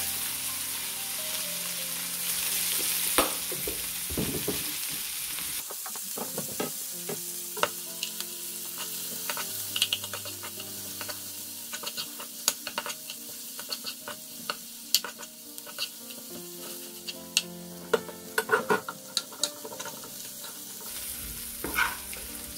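Small desi puti fish fry in hot oil until crispy, a steady sizzle broken by frequent sharp spatters and clicks of stirring, with a louder bubbling stretch at the start and end.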